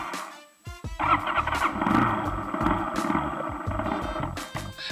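A brand-new motorcycle engine cranks, catches and runs roughly with uneven sputtering firing pulses, close and loud, struggling rather than settling into a steady idle.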